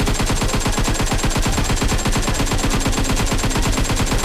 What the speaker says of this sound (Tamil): சோ நான் இப்ப கன் வச்சு சுட போறேன்